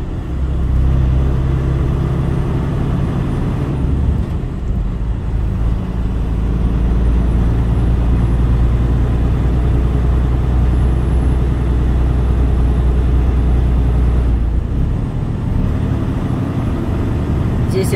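A truck drives through a forest at night with a loud, steady engine drone and road rumble heard from inside the cab. The low roar holds for the whole stretch, with a couple of brief dips.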